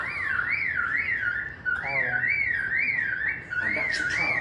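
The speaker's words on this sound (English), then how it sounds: "And that's a car alarm." A car alarm wails steadily in a repeating rise-and-fall warble, fairly faint and distant, cycling about twice a second with brief breaks and a short extra chirp partway through.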